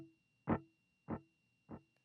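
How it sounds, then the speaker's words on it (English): Three short, clean electric guitar plucks spaced evenly apart, each fading quickly, played through compressor, dotted-eighth delay and medium reverb with no gain; quiet and isolated. "It's a dotted 8 delay, a little lower of a mix than I would usually use"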